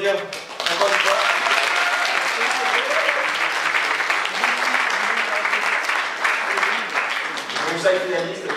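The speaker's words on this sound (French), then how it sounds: "Ils sont tous talentueux et vous pouvez les applaudir encore une fois." Audience applause for the finalists of an eloquence contest, a full steady round of clapping lasting throughout, close and loud, with some voices mixed in.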